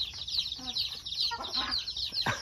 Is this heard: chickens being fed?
yes